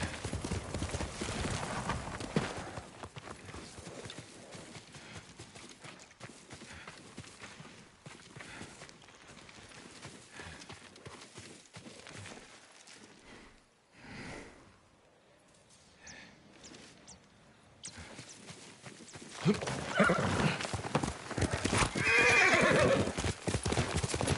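Hooves clip-clop at a walking pace with a horse neighing in the video game Ghost of Tsushima, followed by a brief quiet stretch before louder movement returns.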